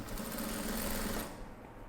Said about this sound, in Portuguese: Vou entrar na máquina e vou passar essa costura.